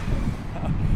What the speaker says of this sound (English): Almost blew over with that last gust of wind.